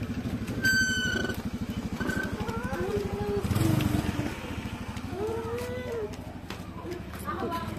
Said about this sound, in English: Tabi-tabi kay may motor.